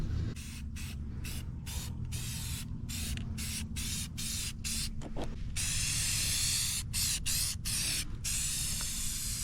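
Spray can coating a lawn mower deck's spindle and arms with paint, a loud close hiss in repeated bursts with short gaps, then one long continuous spray.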